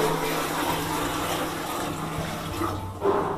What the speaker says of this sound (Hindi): फिर से वापस मैं यहाँ पे पानी डाल रहा हूँ इसमें